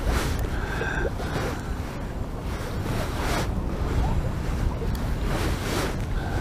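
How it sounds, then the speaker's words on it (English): Strong gale-force wind blowing across open water at a fishing match, a steady roaring, buffeting rush with gusty surges and wind noise on the microphone, continuous throughout with no clear talk. "The wind just seems to be abating a little bit"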